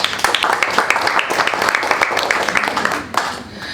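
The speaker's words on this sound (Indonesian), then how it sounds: "Luar biasa, tepuk tangan dulu dong." Audience at a career talk applauding a guest musician, a full, continuous wash of clapping at close range that stays steady before thinning out toward the end.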